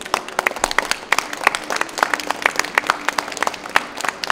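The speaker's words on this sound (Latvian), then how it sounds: "Varbūt, ka mēs visi varētu Astrīdi Ivasku ar aplausiem sveikt" An audience at a book presentation claps to welcome a poet, with crisp individual hand claps forming a steady round of moderately close applause from start to finish.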